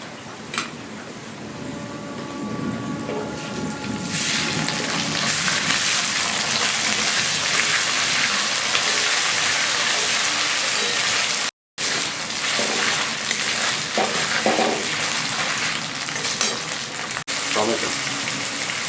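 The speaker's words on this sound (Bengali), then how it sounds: "পেঁয়াজটা লাল করে ভেজে নিয়েছি। এরপরে দিয়ে দেবো সামান্য আদা বাটা," Chopped onions fried until reddish in a pan with a little ginger paste stirred in, for a Bengali bottle gourd and prawn curry, giving a steady loud sizzle and hiss that runs almost unbroken, briefly cutting out once.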